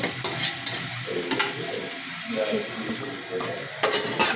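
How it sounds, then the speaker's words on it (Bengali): Eggs frying to serve with leftover khichuri, a soft steady sizzle with clattering utensil taps and watery splashes from a nearby sink, fairly quiet and close. "এখন ওইটার জন্য ডিম ভাজতেছে"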